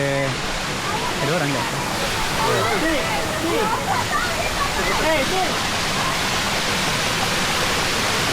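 The 7 Puteri waterfalls roar in a dense, unbroken wash of falling water, loud and steady throughout, while people talk briefly over it.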